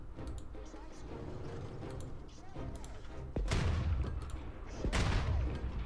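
Musket volleys in Humankind crack out in several sharp bursts over a rumbling battle bed, with two louder booming discharges standing out near the end, and a voice talks over it.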